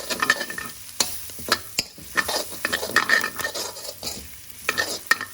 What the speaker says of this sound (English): Give that a nice little mix